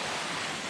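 Water falling over rocks at the Osceola waterfall, a steady, full rushing roar that fills the whole clip with no pause or variation.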